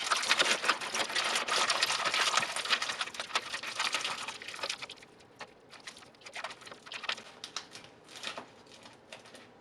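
Aluminium foil crinkled and crushed by hand into a sculpture armature, crisp rustling crackles close up, busiest at first and then thinning into intermittent crumpling bursts.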